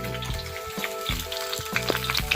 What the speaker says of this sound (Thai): ให้มันเดือดปุดๆก็พอแล้ว